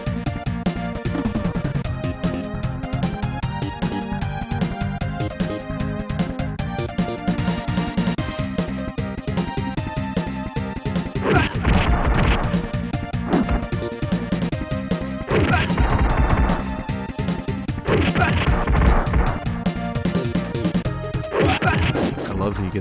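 Grenades are thrown and explode in the Ninja Warriors arcade game, a run of crashing, smashing bursts layered over a loud, steady chiptune music track that never lets up.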